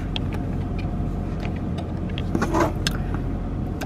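A car engine idles while warming up, a steady low hum heard from inside the car. Faint clicks and small rattles sit over it, with no talking.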